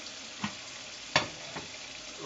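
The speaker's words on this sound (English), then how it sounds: "Just stir it." Food is stirred in a frying pan, a few soft spoon scrapes standing out over a faint, steady sizzle.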